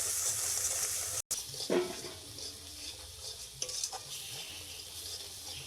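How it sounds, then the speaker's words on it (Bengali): Chili powder and spices being stirred in a sizzling pan of oil for a Bengali tel koi fish curry, a steady frying hiss with soft scraping strokes and a brief louder scrape partway through, no talking. "ঝালটা একটু নেড়ে নিচ্ছি মশলার সঙ্গে"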